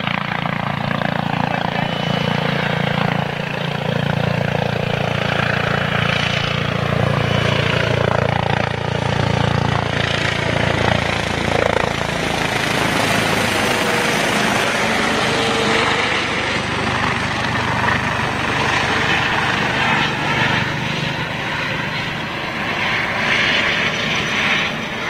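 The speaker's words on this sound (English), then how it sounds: "A330 or a Dreamliner," An Airbus A330 or Boeing Dreamliner airliner makes a fly-past at an Airbus anniversary event in Toulouse, its steady jet roar swelling and fading over about twenty-five seconds, with people talking over it.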